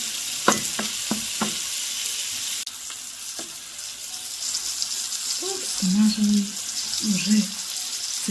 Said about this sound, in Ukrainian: додаємо подрібнені яблучка і ще смажимо хвилину-дві